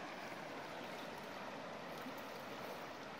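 Water of the Atuel River near San Rafael, Mendoza, Argentina, flowing in a steady, broad rush that holds even and constant throughout, with no voices over it.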